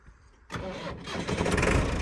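Massey Ferguson MF tractor, roughly ten years old, cranking and firing up, a brief starter whir bursting into a loud, rough diesel rumble that settles toward idle.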